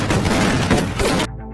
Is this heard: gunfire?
yes